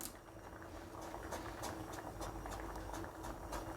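A plantain stem curry with ground coconut and green chilli simmers in a pot, giving a quiet, steady bubbling with soft repeated pops close by, no talking.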